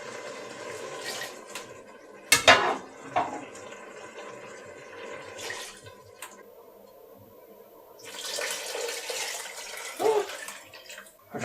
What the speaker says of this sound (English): I think now it's time for the water.